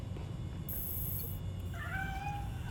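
A cat in a video game gives a single clear meow near the end, set against a low droning game ambience with a brief high electronic tone earlier.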